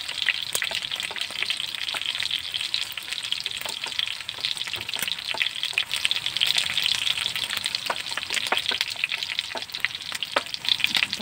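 Garlic fries in a pan with a steady, loud sizzle. Scattered crackles and pops run through it, with no talking.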